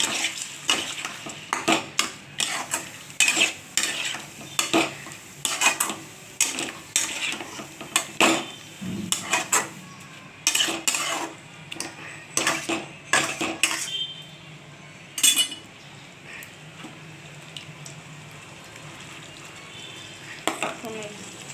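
Chicken kosha cooking in a pan with poppy seed paste and the reserved boiling water, a spoon clanking and scraping against the pan in quick repeated strokes over a low sizzle, pausing near the end.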